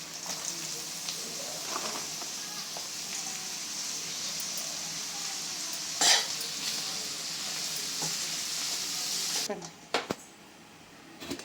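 Spinach frying in a pan with turmeric while palak paneer is cooked, giving a steady broadband sizzle throughout, one sharp burst as the leaves hit the hot oil midway, and a quieter stretch with a few clanks near the end.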